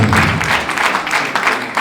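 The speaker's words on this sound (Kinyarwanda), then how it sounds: "Nakomerwa amashyi. Namuze amashyi." Guests at a wedding applaud in a steady, dense wash of clapping that stays fairly loud and even for about two seconds, with no voices standing out.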